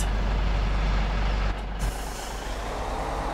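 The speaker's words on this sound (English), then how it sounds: "We'll turn the truck around here for just a minute" A truck in Farming Simulator 17 turning around, with a loud engine drone and a sharp hiss of air brakes releasing midway, close and steady.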